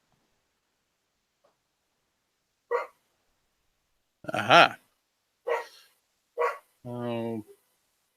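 A few sharp dog barks ring out in separate bursts against a quiet room, followed by a longer whining, voiced sound; a person briefly speaks.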